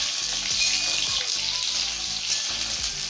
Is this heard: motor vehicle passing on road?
no